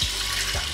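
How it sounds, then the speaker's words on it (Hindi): Water poured into a pressure cooker holding washed rice and moong dal, a steady close splashing stream with a couple of low gulping thuds. "और अब हमें इसमें ऐड करना है पानी।"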